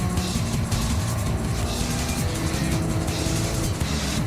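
Racing car engines in a racing game roar steadily as one car overtakes another out of the first turn, a continuous loud drone with rising and falling pitch that never lets up.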